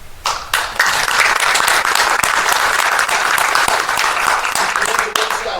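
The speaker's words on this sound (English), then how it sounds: "Let's give those supporters a big round of applause as well." A crowd at a Distinguished Young Women scholarship showcase gives loud, sustained applause for sponsors, dense clapping that swells after a brief start and holds steady, close and full, before easing slightly at the end.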